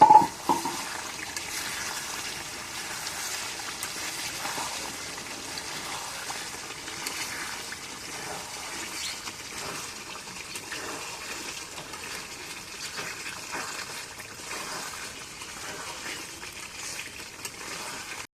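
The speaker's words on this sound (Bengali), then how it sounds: "আলুটা যে ধুয়ে এখন দেই" Tap water runs steadily while potatoes are washed in a home kitchen during meat curry cooking, a continuous near gushing hiss lasting the whole stretch with no talk.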